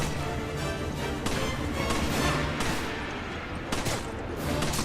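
Gunfire in the video game Resident Evil 5, a dense, continuous barrage of loud shots and impacts with a few sharper bursts standing out, with no talk over it.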